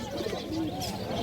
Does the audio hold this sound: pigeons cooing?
yes